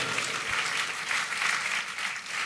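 A congregation at a church sermon claps steadily in dense, sustained applause that fills the whole moment, loud and even with no pauses.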